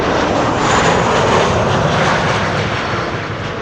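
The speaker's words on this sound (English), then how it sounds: "This is KLM flight 924 arriving from Edinburgh" A KLM passenger jet on flight 924 from Edinburgh arrives at Amsterdam Schiphol Airport. Its engines give a loud, steady, broadband roar that eases slightly toward the end, with no voices.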